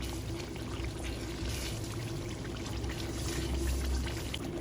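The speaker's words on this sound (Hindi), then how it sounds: "तो अभी इसमें जाएगा वो पानी" Water pours steadily into a pan of Lahori chickpea curry masala, a continuous close splashing and trickling that lasts several seconds without talk.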